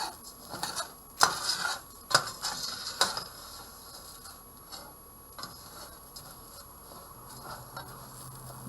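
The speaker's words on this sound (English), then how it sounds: "Let me stir up this rice and see how it's doing." A spoon stirs Spanish rice in a cooking pot, making a few scraping clinks and knocks close by in the first few seconds before settling into a quiet background hiss.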